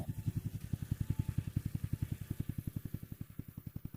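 MT-110 mini tractor engine running at a steady idle, a fast even chugging of regular thumping pulses close by with no talk.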